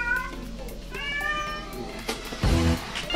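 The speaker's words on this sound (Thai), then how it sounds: "อันนี้แซนแคทนะครับแมวที่เล็กที่สุดมันขู่ได้เลยนะ" A sand cat, the smallest wild cat, gives a run of short harsh vocal bursts, close and clear, ending in a sharper hissing spit near the end.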